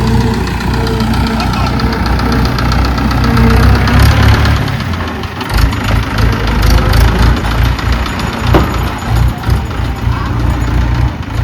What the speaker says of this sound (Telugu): ట్రాక్టర్ అయితే షెడ్ దగ్గరికి వెళ్తుంది